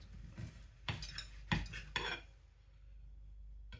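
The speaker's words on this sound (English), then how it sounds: "I'm just going to cut a slice off the end first" A knife saws a slice from the end of a warm, crumbly nettle and lemon loaf cake, three or four soft scraping strokes up close, then quiet.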